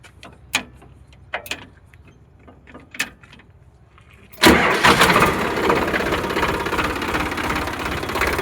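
A Sonalika DI 47 tractor from around 2016-17 with a new battery cranks after a few clicks and knocks, then its diesel engine catches abruptly and settles into a loud, steady, close idle.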